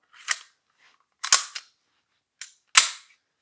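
A SIG Sauer P226 pistol slide, set up for 9mm Luger, being put back onto its frame: four sharp metallic clicks and clacks in an irregular sequence, close and fairly loud, with no talking.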